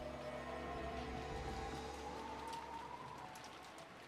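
Steady, dense rainfall from the video game Umineko patters continuously with no break, fading slightly toward the end, alone without voices.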